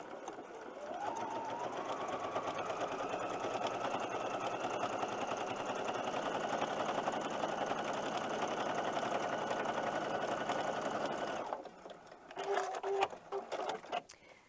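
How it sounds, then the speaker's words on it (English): Sewing machine stitching a quarter-inch seam on quilt fabric for Christmas tree placemats, a fast, even mechanical whirr lasting about ten seconds, then stopping with a few clicks and fabric handling sounds, quiet and close. "you're going to be sewing a 1/4 inch seam allowance, so I'm going to put this under the machine"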